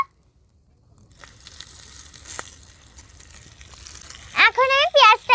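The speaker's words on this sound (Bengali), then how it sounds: "এখন আমি পেঁয়াজটাকেও একটু ভেজে নেব" Chopped onion frying in a pan for a chicken omelette gives a faint, steady sizzle under a quiet kitchen background, then a voice speaks loudly near the end.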